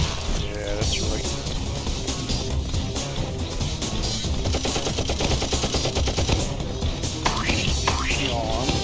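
Rapid bursts of gunfire aimed at an enemy's arm in a Roblox prison-run game, dense and continuous, with a voice talking over the shots.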